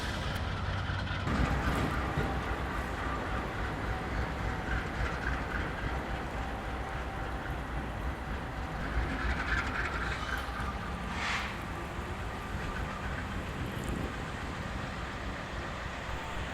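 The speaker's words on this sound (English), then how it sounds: "The locomotives are rounding the corner and moving behind the signal" Freight train locomotives round a curve near Control Point Lehighton in northeast Pennsylvania, giving a continuous rumbling roll with faint wheel noise at moderate distance that holds steady for the whole stretch.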